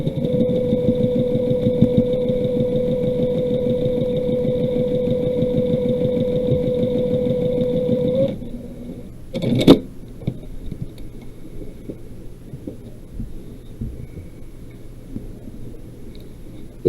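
A sewing machine stitches a quarter-inch seam on a quilted cat block, a steady mechanical whir for about eight seconds before it stops abruptly, followed by a quick clack and faint handling noises.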